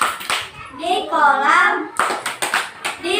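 Children clap their hands while singing the Tepuk Ikan song in class, quick claps mixed with the young voices chanting and singing along.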